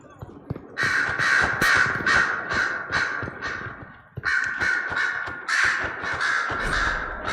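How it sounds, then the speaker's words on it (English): Crows in the Dragon Age Inquisition video game caw loudly in dense overlapping bursts, a whole flock calling in two long waves split by a brief lull. "So many fucking crows, holy shit."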